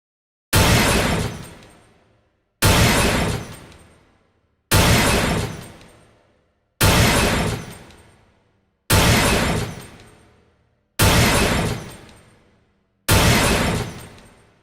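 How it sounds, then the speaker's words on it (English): Glass-breaking sound effects made for a sound design challenge, heard as seven loud, bright shatters in a row. Each hits sharply and crumbles away over about a second and a half, evenly spaced with silence between. "This one kind of has like a glass double tap at the end"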